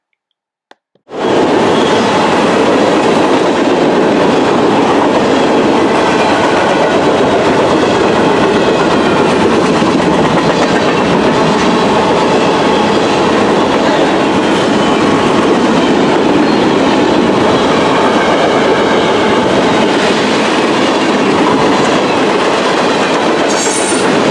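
A GE C40-9W locomotive in YN2 paint leads a CSX freight train, Q565, passing in Berea. It is loud, close and continuous, with rumbling wheels and clickety-clack over the rails throughout and no talking.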